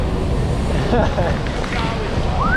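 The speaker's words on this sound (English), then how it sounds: "I've never felt wind like this before!" Strong wind roars steadily on a boat with water sloshing nearby, and a few faint squeaks and thumps come through the gusts.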